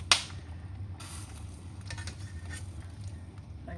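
Traditional Irish bacon boiling gently in a pot on a home stove, a quiet, steady bubbling and hiss with a soft clink near the start and no talking.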